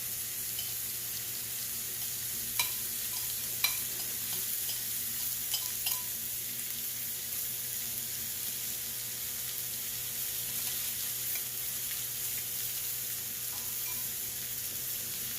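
Steaks sizzling on a Blackstone flat top griddle with pepper and onion juice poured over them, a steady, even hiss that runs throughout, with a few faint clicks early on.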